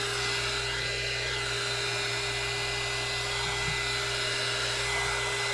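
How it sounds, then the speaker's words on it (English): Heat gun blowing over mica-swirled resin in a cup, a constant airy whine with a steady electric hum, close and unbroken throughout, with no talk. "use your heat gun to blow it where you want it to go"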